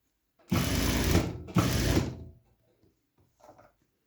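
A sewing machine stitches pockets onto the front of a work overall in two loud close bursts of rapid mechanical whirring, a brief pause between them, then quiet with a few faint handling clicks.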